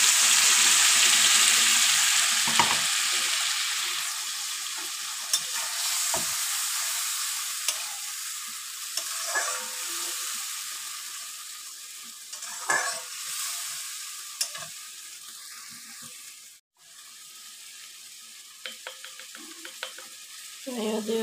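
Coconut and green chili paste frying with browned pointed gourd in a pan gives a steady sizzle broken by repeated scraping stirs and occasional utensil knocks, loud and close throughout.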